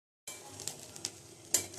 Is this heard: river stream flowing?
no